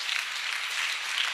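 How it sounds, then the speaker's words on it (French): A church congregation at a Sunday service applauds loudly, a dense, steady wash of clapping filling the room without a break. "On acclame. On acclame très fort."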